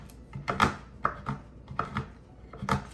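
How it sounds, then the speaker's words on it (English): Rough chopping of chocolate with a knife on a board for banana bread: a series of sharp, close, uneven knocks, about seven cuts in quick irregular rhythm, with no talking. "And I'm just doing a rough chop"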